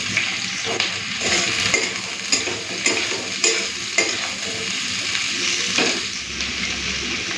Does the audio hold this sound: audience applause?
no